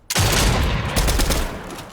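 A gun firing in a video game, a loud dense burst of rapid shots that starts suddenly and rattles on for about two seconds, with no talking over it.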